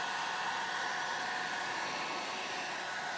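Heat gun blowing steadily over a fresh resin pour in silicone molds, a constant close airy roar with no pauses from start to finish.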